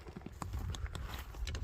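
Horse hooves clip-clop in quick irregular strikes over a low rumbling background, fairly faint and close, with no clear talk.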